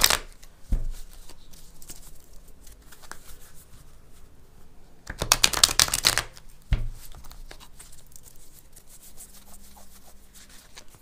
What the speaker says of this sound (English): We're going to shuffle up some cards.